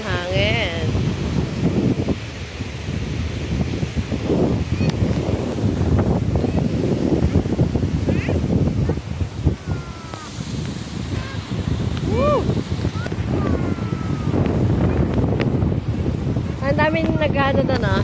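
Strong wind buffets the microphone in a constant roar in San Nicolas, Batangas, after the Taal Volcano eruption, with people speaking intermittently underneath.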